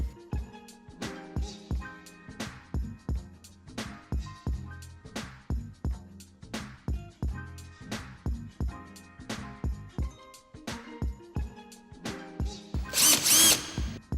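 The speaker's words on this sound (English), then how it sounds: "allow a cordless drill or any 1/4-inch drive wrench to be used to spin the washer quickly, winding it off the pin" A cordless drill spins a clamping washer tool for 32mm VAG and Ford washers in a rapid series of short, evenly spaced whirring bursts, each starting and stopping quickly, close and moderately loud, ending with a longer burst.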